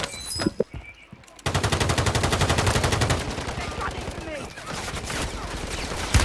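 Dense, rapid automatic gunfire from a fight on Rebirth Island in a Call of Duty-style shooter, a loud sustained rattle after a brief quieter opening, with players talking over it.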